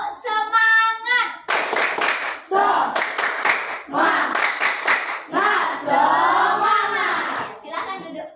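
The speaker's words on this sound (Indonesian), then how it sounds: "Tepuk semangat." Classroom children performing the rhythmic 'tepuk semangat' clapping chant, sharp bursts of group claps alternating with shouted sung chant phrases, loud and close with a leader's voice at the start.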